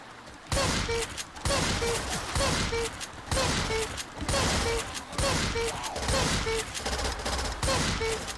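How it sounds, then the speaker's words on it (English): A shotgun fires in a video game, about eight loud blasts at a steady, roughly one-second rhythm, each with a short mechanical pump after it. "I'm gonna have to get used to that shotgun sound"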